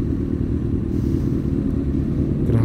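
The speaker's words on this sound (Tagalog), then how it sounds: "Grabe, ang daming motor, no?" Many motorcycles stream past in congested traffic on a road in Imus, a dense, steady engine rumble with no pauses and a slightly louder surge near the end, no one talking.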